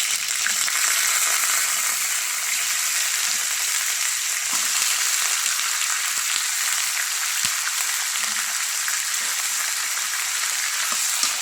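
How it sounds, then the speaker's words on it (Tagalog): Chicken sautéing in a pan for afritada makes a steady, dense sizzle and crackle that runs unbroken and loud throughout, close up with no voices. "Isasangkot muna natin mga amigo yung ating ilulutong chicken alat chamba."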